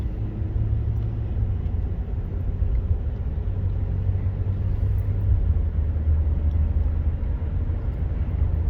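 A 2017 Ram 1500 pickup with an oil pressure fault accelerates from a stop, heard from inside as a steady low engine and road rumble that holds constant and fairly loud with no voices.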